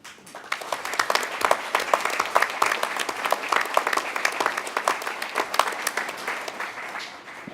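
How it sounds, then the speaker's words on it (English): Applause from the audience at Mainfreight's 2018 annual general meeting, dense steady clapping from many hands that carries on for several seconds and then slowly tapers off. "I'd like you to applaud her"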